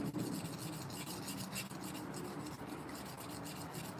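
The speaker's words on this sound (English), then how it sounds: "The sound of XHP on a stone. It has a distinct, gritty sound." Hard XHP steel knife blade drawn across a whetstone, a steady gritty rasping scrape that continues without pause at close range.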